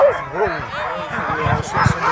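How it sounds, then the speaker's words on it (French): Several dogs bark, yip and whimper close by at an outdoor gathering before a walking stage in Lanuéjols, while a person talks over them. "Alors le chien que vous voyez à gauche"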